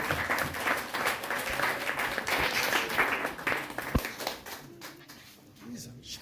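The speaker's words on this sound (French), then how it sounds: "Pour applaudir pour les mots de revoir." A gathering applauds during a farewell address, with a fairly close crowd of clapping hands that thins out toward the end while voices murmur underneath.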